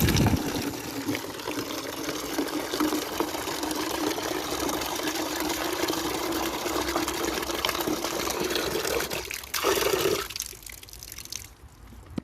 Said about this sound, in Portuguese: estamos lavando túmulo. A água veio assim.